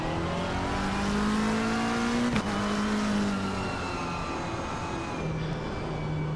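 Pink McLaren race car in Assetto Corsa Competizione during a sprint race, engine droning steadily at high revs with shifting pitch and a brief gearchange blip, loud and continuous.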